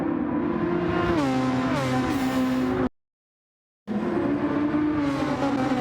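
Formula 1 cars race in a video game at the Swiss Grand Prix, high-pitched engine whine rising and shifting through gears on the main straight, cutting out for a moment before the screaming engine returns.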